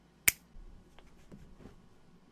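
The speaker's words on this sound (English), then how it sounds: "by change, I mean snap my fingers" A single crisp finger snap pops sharply near the start, followed by quiet shuffling and faint movement noise in an otherwise hushed room.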